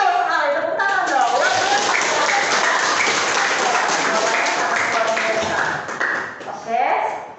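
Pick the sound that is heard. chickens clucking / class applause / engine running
class applause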